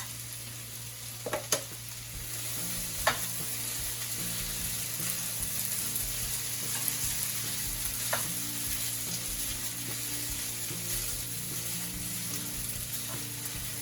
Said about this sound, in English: Now we just need to go ahead and just get it all mixed up and cook it for several minutes